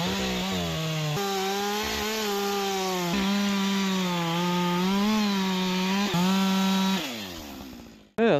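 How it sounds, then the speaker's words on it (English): A chainsaw cuts up birch and ash trees for firewood on a homestead, a loud, steady high-pitched whine that sags and recovers as the blade bites through the wood, before cutting off abruptly near the end. "We got a birch and an ash right there we're gonna cut up."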